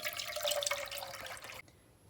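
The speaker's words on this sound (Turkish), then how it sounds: "Öncelikle olarak 1 litre sütümü uzun bir tencerenin içerisine alıyorum." One litre of milk pours into a tall cooking pot, a steady close liquid stream splashing for about a second and a half before stopping abruptly.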